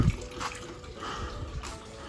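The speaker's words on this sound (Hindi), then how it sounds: "अभी पानी पूरा गिर गया देखो।" Water pours into a drum that stores water for plants and vegetables, heard close as a gushing splash that starts with a heavy burst and then settles into a softer running flow.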